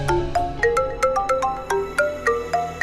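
A phone ringtone plays a repeating bright electronic melody of quick plucked notes, loud and close, with no talking.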